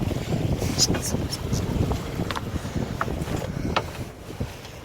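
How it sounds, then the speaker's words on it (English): Wind blowing across a sailboat lying head to wind, buffeting the microphone in gusty rumbling waves, with occasional light creaks and knocks of rigging and gear near at hand. "we're also, as you can see, dead into the wind"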